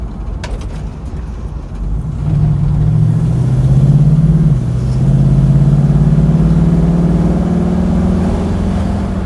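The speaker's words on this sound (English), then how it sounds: "That transmission sounds good, flowing through the gears." A 1967 Chevrolet Nova engine hums loudly from inside the cabin, revving up, dropping briefly as a gear shifts, then climbing steadily again with no voices.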